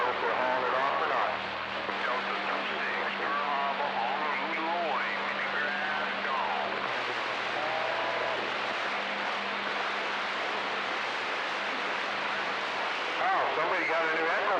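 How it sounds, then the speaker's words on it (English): A CB radio crackles with distorted voices, one run through an echo microphone effect, transmitting continuously over a steady background hum and static; the sound stays loud and dense throughout. "somebody got a new echo mic."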